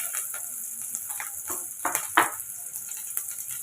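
Onions, chili and curry leaves with fennel sauté in a pan for a crab curry, giving a light crackling sizzle with a few louder spattering pops and stirring scrapes.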